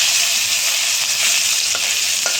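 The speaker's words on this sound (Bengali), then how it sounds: "মাছ বেশি ভাজলে শক্ত হয়ে যায়, তাই মাছটা মানে মিডিয়াম ভাজি" Fish pieces frying in a pan at medium heat, giving a steady, close hissing sizzle that holds for the whole clip, with a few faint pops.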